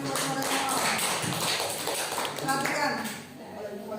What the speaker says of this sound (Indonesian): Oke, tepuk tangan buat mereka.